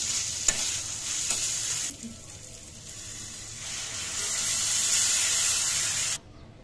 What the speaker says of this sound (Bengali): সব গুস্তের মশলা দিয়া কষাইতেছি